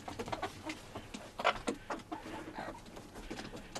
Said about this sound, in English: Down there sticking his head out is my little silky rooster Beauregard